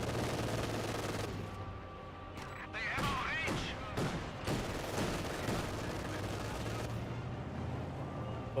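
Gunfire from a squad in Company of Heroes 2 rattles in sharp bursts and scattered shots, with heavier booms among them, against constant battlefield rumble and a commentator talking over the action.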